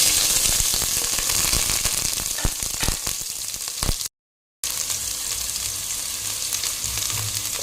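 Onions sizzle loudly in hot coconut oil, a crackling fry broken by a brief silence, then the sizzle resumes steadily.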